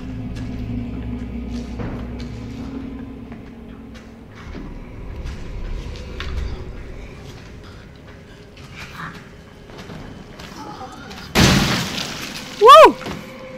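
A single heavy shotgun blast from the Resident Evil 7 video game bursts out loud and sharp near the end, following a stretch of quiet rumbling and scattered in-game noises.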